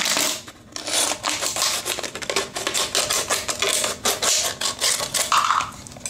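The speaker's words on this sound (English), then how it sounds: "So you can just use some scissors." Repeated crisp snipping and crunching as scissors cut through a stiff plastic bottle, in irregular bursts close to the microphone.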